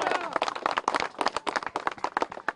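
Crowd at a JanaSena election rally in Machilipatnam clapping in brisk, irregular bursts, near and moderately loud, blended with cheering voices.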